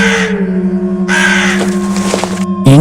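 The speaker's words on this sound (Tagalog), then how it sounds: "Yun yung huni ng ibong narinig ko noong nakaraang gabi ha." At night a bird gives a loud, close, sustained call with a steady tone, broken by a brief pause before it resumes and then cuts off abruptly.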